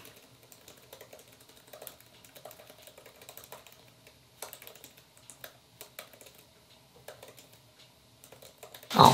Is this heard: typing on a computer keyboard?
yes